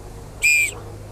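A long continuous whistle blast from an orange plastic whistle, the kind volunteers blow as a street warning of immigration agents, sounds loud and steady for about a third of a second over faint background hum.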